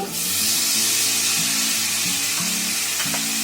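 Mushrooms fry in a pan with onions that have already browned, a loud, continuous sizzle and hiss running unbroken and close, with faint clinks near the end and no talking.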